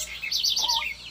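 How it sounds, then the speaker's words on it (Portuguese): A small bird chirps from somewhere behind branches and twigs, a short, bright run of high notes that rises and falls with no other sound around it. "Mas que passarinho é esse?"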